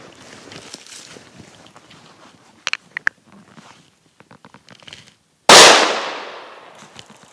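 A single sharp, loud gunshot rings out while hunting gray squirrels in the woods, decaying over about two seconds, preceded by quiet rustling and a few faint clicks.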